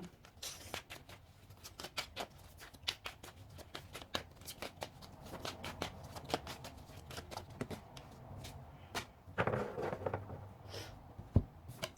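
Tarot cards are shuffled by hand in a quiet room, a long run of quick, crisp riffling flicks and soft slaps at close range, with a brief louder burst near the end.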